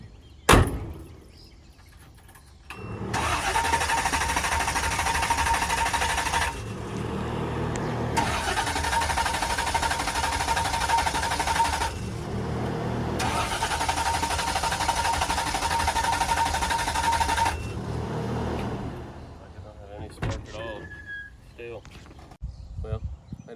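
A hot rod V8 with an MSD ignition, its distributor not hooked up, cranks in three long bursts of several seconds each, loud and close, with short pauses between tries and no catch.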